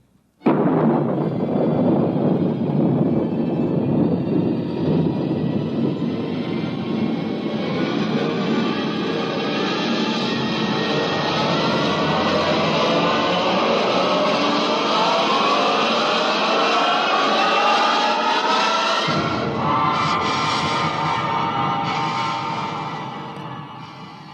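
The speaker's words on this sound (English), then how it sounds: "Countdown for blast off." A rocket blast-off effect from a 1950s science-fiction radio drama: a sustained, loud, thundering roar that swells and holds for over twenty seconds, then shifts and fades out at the end.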